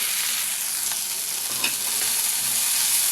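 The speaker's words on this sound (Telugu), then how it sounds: "అలాగే ఒక స్పూన్ నువ్వులు వేస్తున్నాను" Sesame seeds hitting hot oil in a pan while poha is being cooked, a steady bright sizzle and crackle throughout with a few faint stirring knocks, close and alone.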